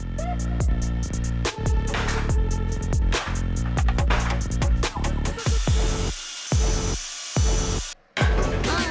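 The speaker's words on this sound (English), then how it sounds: "I got a little impatient and started drilling and hammering them out" Loud, continuous workshop noise of metal being drilled and hammered as suspension bushings are driven out of an Audi B6 rear suspension, with rapid repeated impacts and a grinding whine throughout.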